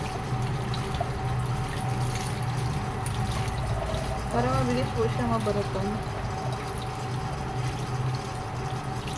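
Tap water runs steadily over grilled eggplant being peeled for an eggplant salad, a continuous hiss throughout as a person talks.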